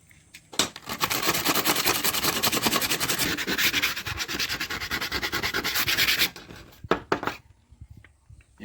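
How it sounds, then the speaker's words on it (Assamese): Bamboo being rubbed smooth with sandpaper gives a loud, steady scratchy rasp of quick back-and-forth strokes lasting several seconds, then a few short scrapes, with no talking. "এতিয়া চিচ মাৰি এইটো ধুনীয়াকৈ চাফা কৰিম।"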